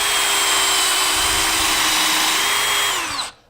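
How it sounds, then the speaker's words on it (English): A power drill bores a countersink hole into a wooden bookcase shelf with a loud, steady high whine that holds for about three seconds before winding down and stopping. "We're going to put a countersink hole here."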